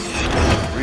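A gun being reloaded in the video game RAGE gives a brief mechanical clack and ratchet of metal parts, close and fairly loud over a steady game background.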